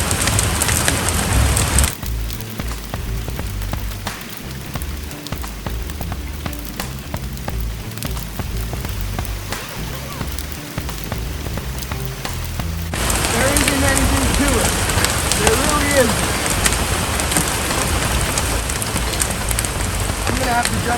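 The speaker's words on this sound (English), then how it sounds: "It's raining a little too hard now." Steady rain pours down for the whole stretch, a dense hiss of drops on surfaces that swells heavier near the end, with no voices.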